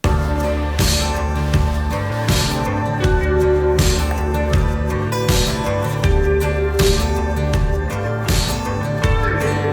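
Acoustic guitars strum chords in a section of a full music mix, heard without stereo widening, steady and prominent throughout.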